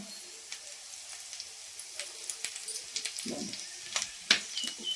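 A Maggi noodle omelette fries in a pan with a steady soft sizzle, dotted with small pops and a few scraping touches, heard close and fairly quiet.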